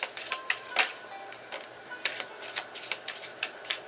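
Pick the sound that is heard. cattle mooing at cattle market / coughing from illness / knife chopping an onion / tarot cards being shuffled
tarot cards being shuffled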